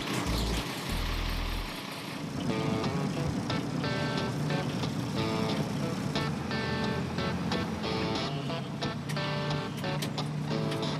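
A 13,000 pound International tractor drives along a road, its engine droning steadily and loudly with a low rumble and rattling mechanical noise throughout.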